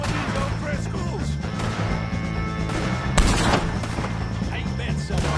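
Gunfire in a Red Dead Redemption 2 shootout against O'Driscolls, with several sharp shots and one heavy blast midway over continuous rumbling game noise, while voices shout nearby.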